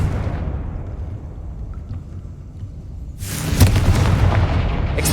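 A Confringo fire spell explosion in Hogwarts Legacy, a deep rumbling boom decaying over a few seconds, followed by a second louder burst of crackling blast, close and heavy.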